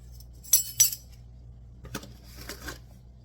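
A metal teaspoon measuring out citric acid for dyeing yarn makes two bright, close clinks, followed by quieter rattling and tapping.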